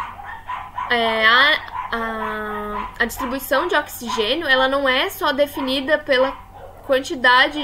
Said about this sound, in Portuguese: desculpa o meu cachorro